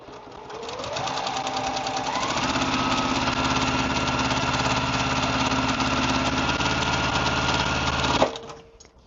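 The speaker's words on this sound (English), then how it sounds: "now we're going to sew down that line" A sewing machine stitches a quilt block seam, its fast even motor hum and needle rattle running steadily for about eight seconds, close and loud, before stopping with a short clunk.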